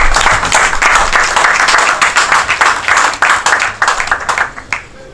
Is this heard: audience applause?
yes